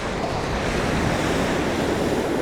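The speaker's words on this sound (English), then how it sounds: "Hopefully you can hear me above the roar of the stones and the water." Waves roar loudly over the pebbles of a beach, a dense, continuous crashing wash with wind buffeting the microphone and no voices.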